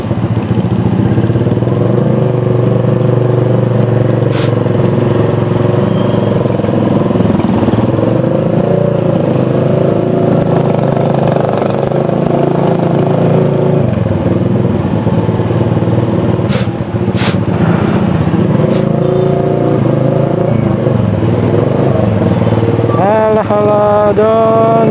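A motorcycle engine running out of fuel on a ride in Medan, idling and puttering unevenly and loudly throughout with a few sharp clanks, and a brief rev near the end.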